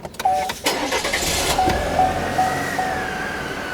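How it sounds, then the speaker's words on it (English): An engine cranks and catches, then settles into a steady idle with a faint whine. It is a car motor being started before an air-operated rev tool that plugs into the OBD2 port is used. "let's start this motor up"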